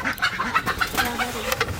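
A chicken clucks in short bursts, apparently running loose near an outdoor market stall where a duck has just been bought, with busy background noise and some nearby chatter.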